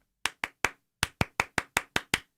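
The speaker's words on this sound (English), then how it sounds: "He clapped too many times, by the way." Sharp hand claps in a steady rhythm: three quick claps, a short pause, then seven more at an even pace, close and crisp with no talking.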